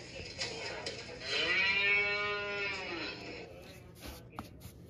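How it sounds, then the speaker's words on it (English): A cow gives a single long, drawn-out moo with a rising then falling pitch, clear and fairly close, followed by faint background shuffling. "This is a cow. Cows give us milk."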